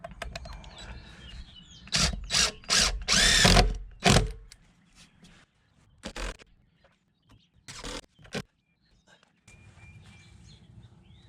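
Power drill driving screws into a wooden deck step, several loud bursts of whirring close by, then shorter pulses with quieter gaps where someone speaks briefly and birds are faint outdoors.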